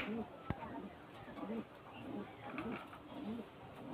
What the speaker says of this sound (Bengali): ভিউয়ার্স ওই পায়রাটা নর পায়রা দেখুন, দুটো একদম সেম কোয়ালিটি।